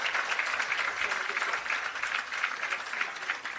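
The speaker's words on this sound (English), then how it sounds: "give them a big round of applause" Audience applause at the opening ceremony of an agro park in Clarendon, Jamaica: a steady, dense wash of clapping that holds at an even level from start to finish, with no voices standing out.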